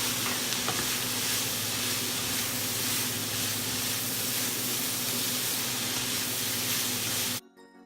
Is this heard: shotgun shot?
no